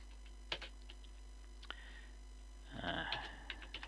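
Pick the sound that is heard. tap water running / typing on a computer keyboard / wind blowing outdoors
typing on a computer keyboard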